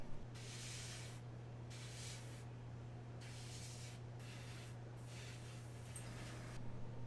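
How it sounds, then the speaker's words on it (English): An airbrush sprays paint onto a model part for an EE-3 blaster prop, in about six soft hissing bursts with brief gaps between them, quiet and close. "that's what I'm going to do first, is a little airbrushing"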